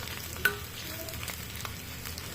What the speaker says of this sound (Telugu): ఫ్రై అయింది కాబట్టి కలిపేస్తున్నాను.